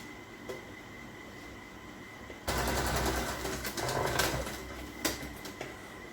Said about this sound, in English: we're going to be sewing along nice and close to the fancy edge here using a zigzag stitch